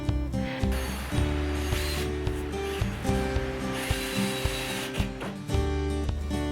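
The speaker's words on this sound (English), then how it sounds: "And I'm screwing the post onto the feet." A power driver sinks 2.5-inch screws into a wooden outdoor coffee table post, making a loud, continuous grinding whir with a buzzing ratchet-like chatter that clicks and shifts pitch throughout, heard up close.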